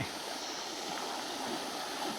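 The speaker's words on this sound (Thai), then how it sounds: "เป็นแม่น้ำที่สวยงามเลยทีเดียวนะครับ ผมคิดว่าน่าจะเป็นแม่น้ำนะครับอันนี้" A large river flows through deep forest near a waterfall, its steady broadband rush of water filling the scene evenly and close by, with no pauses or voices.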